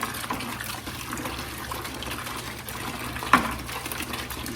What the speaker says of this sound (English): we'll be pumping out a lot of water